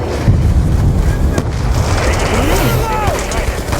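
A grenade goes off in the Call of Duty Black Ops 2 video game, a sharp loud boom rising out of a dense wash of in-game battle noise and gunfire that continues throughout.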